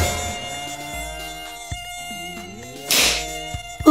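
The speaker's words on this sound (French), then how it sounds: "Oh, les moustiques!" Mosquitoes buzz close by in a hot room during an African power cut, a thin whine carrying over steady tonal background hum, with a brief louder burst near the end.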